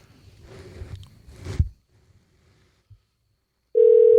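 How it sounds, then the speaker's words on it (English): A steady electronic telephone ringback tone begins after some fumbling and handling noises, sounding as a single continuous buzzing note close by. "Hey, it's ringing."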